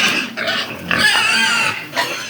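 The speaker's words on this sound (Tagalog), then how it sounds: "Daming baboy oh." A crowd of pigs grunts and squeals close by, rough overlapping snorts and bursts packed densely together, loud and continuous with no pause.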